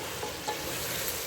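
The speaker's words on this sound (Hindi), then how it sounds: "अदरक के पेस्ट में, इसको भून लिया।" Garlic and ginger paste fries in a pan for chicken biryani, a faint, steady sizzle with light stirring, alone without talk.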